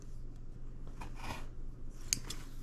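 Quiet metallic clicks and snips of scissors being opened and closed, a few soft handling sounds close by.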